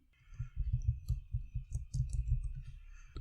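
A computer mouse clicks again and again while Windows 10 is being reset, a close run of soft, evenly spaced clicks that goes on for about three seconds with no talking.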